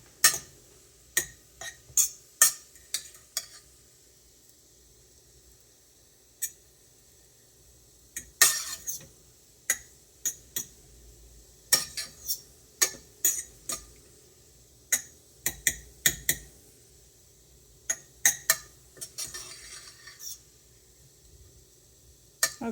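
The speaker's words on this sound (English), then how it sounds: "hopefully the butter gets mixed in" A spoon scrapes and clinks against a bowl while butter is stirred together with parsley and lemon zest, giving irregular, close clicks and taps in quick clusters with quiet gaps between.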